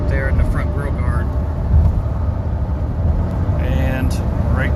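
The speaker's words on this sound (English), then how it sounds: "this video is just so you can hear how loud the MTs are that are on here" A truck rolls along on loud mud-terrain tires, with a steady droning road roar inside the cab as someone talks over it.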